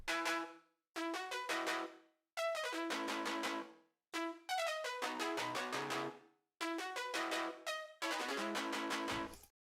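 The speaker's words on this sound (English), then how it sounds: "another saw patch that's sort of doing interplay with the guitars" A bright saw synth patch plays a melody in repeated phrases, each phrase starting sharply and decaying before the next, clear and up front with no talking.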